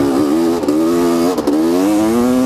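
A 1985 Honda CR250R two-stroke dirt bike engine revs loudly and close, holding a steady buzzing drone with two brief dips where the throttle blips before climbing again.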